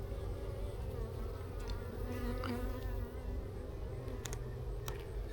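Russian hybrid honey bees drone steadily around a hive frame, a dense close buzz from many insects with individual bees flying past the microphone.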